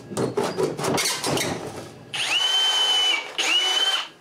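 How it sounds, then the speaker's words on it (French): Power drill boring holes through prefinished wall panels for sensors and lamp wiring, two close, loud whining bursts of drilling after a stretch of clattering handling noise. "c'est de percer des trous dans mes murs de préfini pour les senseurs et les fils des lampes"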